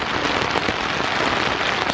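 Rain falls during a camping trip as a dense, steady patter and hiss, close and fairly loud, with no one talking.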